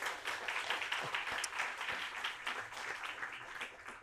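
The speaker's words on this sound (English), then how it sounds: "Let's give them a round of applause." Soft audience applause from a gathering at an art exhibition opening night, a spread of scattered claps heard at a distance and sustained for several seconds at low volume.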